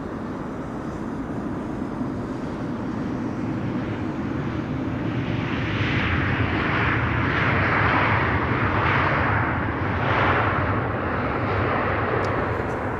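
A Singapore Airlines cargo Boeing 747 lines up on runway 24 at Amsterdam Schiphol, with a broad, steady jet engine roar that swells slightly over several seconds, heard from a distance with no voices.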